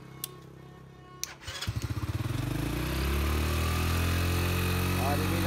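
A motorcycle engine is cranked and fires up at about 1.6 seconds, then settles into a loud, steady idle close by, with a few faint clicks before it starts.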